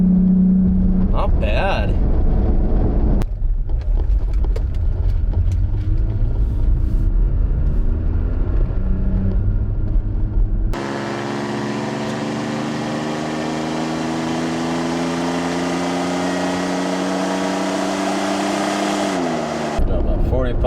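A car fitted with a K&N NextGen cold air intake revs from around 1,500 to 3,500 RPM while being driven, the engine rising in pitch, then roaring strongly under acceleration before easing off, with someone speaking briefly inside the car.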